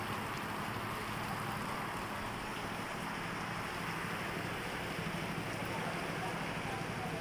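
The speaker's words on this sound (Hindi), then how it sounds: "ये देखें यार, तेज़ बारिश हो रहा है" Heavy rain pours down steadily as a dense, loud, unbroken wash of noise with a low rumble beneath, no pauses throughout.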